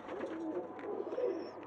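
Nash pigeons coo softly and repeatedly at close range, a low rolling murmur with a faint whistle in the background.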